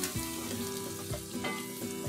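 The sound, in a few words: stir-frying chopped vegetables for prawn fried rice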